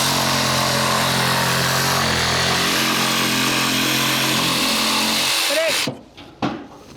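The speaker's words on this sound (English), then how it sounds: "The saw that I like to use to cut out my decking is a jigsaw" Jigsaw cutting an opening in roof decking for a roof louver: a loud, continuous buzzing saw roar that runs for nearly six seconds, then stops abruptly, leaving a few faint knocks.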